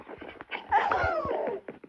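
A dog whimpers and whines in a short rising cry, with soft panting and scuffling sounds around it.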